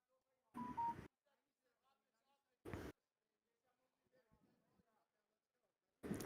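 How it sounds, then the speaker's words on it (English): A phone gives short, loud electronic beeping bursts, one near the start, another midway and a third at the end, separated by quiet stretches with faint talk in the background. "I hear my phone over here"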